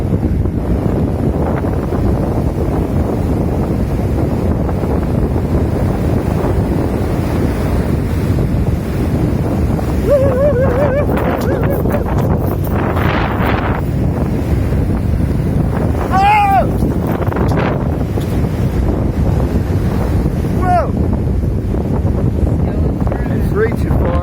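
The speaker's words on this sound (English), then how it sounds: "Never seen Florida waves like this" Hurricane-driven surf crashing on a Florida shore, a loud continuous roar of breaking waves with heavy wind buffeting the microphone throughout and brief faint voices partway through.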